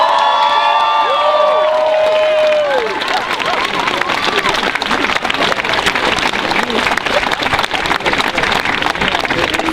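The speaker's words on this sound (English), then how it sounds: "So can we just give one more round of applause to the community organizers?" Loud crowd applause and cheering for community organizers at a protest rally, dense clapping with shouts and babble, opening under an overlapping voice before the clapping takes over.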